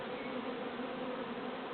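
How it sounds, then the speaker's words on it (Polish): A dense, continuous drone of many honey bees buzzing close by, steady and unbroken. "są dziwne pszczoły, słuchajcie"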